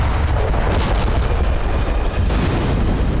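Explosion at a Hezbollah rocket depot in Yater struck by the IDF, heard as a loud continuous rumbling roar with crackling bursts, dense and sustained throughout, without speech.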